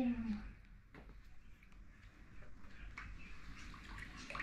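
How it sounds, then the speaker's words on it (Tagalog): Dirty water is poured out during household cleaning, a faint continuous splashing rush heard at low level. "Itapon ko muna itong tubig kasi ang itim-itim na."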